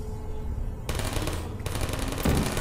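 Portal gun shots in the video game Portal: Prelude, sharp synthetic bursts that cut in suddenly and crackle with dense, rapid energy, followed by a second blast after a brief dip, loud and up close.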